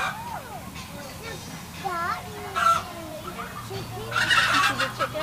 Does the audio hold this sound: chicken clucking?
yes